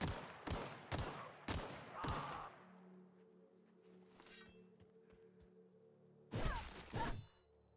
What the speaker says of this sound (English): Oops, someone shooting.